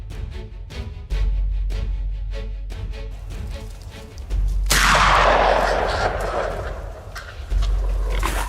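A rifle shot at a large male wild boar with black fur and tusks, one sharp loud report midway followed by a long decaying echo, after several rapid rustling or footstep-like impacts.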